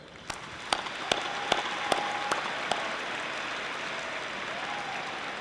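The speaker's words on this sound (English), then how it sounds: "Please join me in applauding their dedicated efforts." At a Thomas Nelson Community College commencement ceremony, a large audience applauds as a distant, steady wash of clapping, with a few sharper individual claps standing out near the start.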